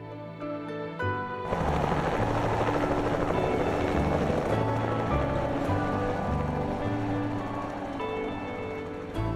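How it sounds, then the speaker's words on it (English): A helicopter flies over the mountains of British Columbia. Its loud, steady rotor and engine roar swells in after a quieter start and then holds constant and close. "we were in the helicopter flying over the ground we had hiked in the previous 3 weeks"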